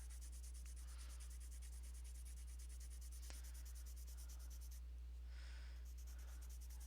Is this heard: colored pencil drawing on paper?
yes